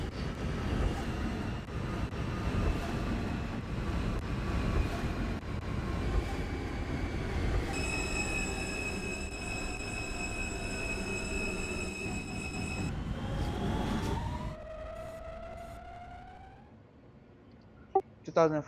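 A Brooklyn-bound R160 F local subway train in the OpenBVE simulator runs with a dense low rumble and rising motor whine, steady tonal hums appear midway, then the sound fades and brakes squeal near the end at Bryant Park.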